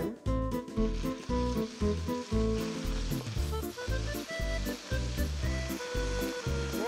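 Beef sizzles in hot oil in a wok, a continuous frying hiss layered over rhythmic, pulsing background music that rises and falls throughout.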